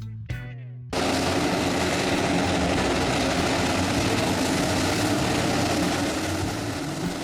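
Grumman S-2 Tracker firefighting aircraft, a former submarine-hunting plane, with a steady, loud propeller-engine drone holding close and constant after a brief quieter opening.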